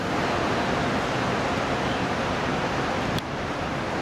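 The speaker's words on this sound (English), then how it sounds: "This is the Atlantic Ocean." Atlantic Ocean surf at Copacabana Beach in Rio de Janeiro, with small waves and no big breakers, gives a steady, dense wash of noise that barely changes. A faint click comes near the end.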